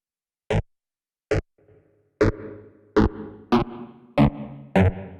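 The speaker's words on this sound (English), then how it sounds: "That's a nice short reverb." Sharp percussive hits run through a Hologram Electronics Microcosm pedal's short reverb patch, about seven separate strikes spaced under a second apart, each followed by a brief, quickly fading tail.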